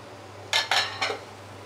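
Rice stirred into a pot for chicken fried rice over a low flame, three quick, loud metallic scrapes of a utensil against the pot over a low steady hum.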